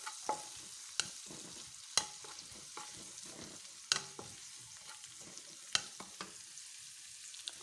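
Sizzling in a hot pan with sharp clinks of a utensil stirring seasonings before chicken is added, a steady crackle broken by several distinct scrapes and taps, no voices.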